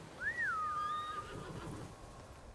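A single horse whinny in the video game Ghost of Tsushima: Director's Cut rises and falls in pitch, clear and fairly close, followed by quieter ambient noise.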